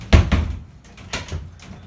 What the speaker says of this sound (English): Secure your doors